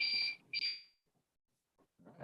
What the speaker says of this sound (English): Your alarm went off.